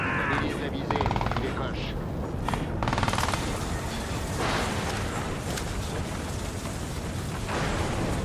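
Gunfire and explosions in the Crysis 3 video game, a loud, dense barrage of rapid shots and booms running throughout, with someone talking over it.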